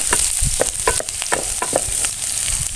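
Garlic sizzling in hot oil in a pot while being stirred, a steady close frying hiss with repeated sharp scrapes and clicks of the utensil against the pan.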